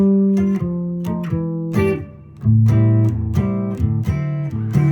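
Guitar chords played one after another in a short turnaround progression using a minor two chord, ringing and warm, close and fairly loud with no voices.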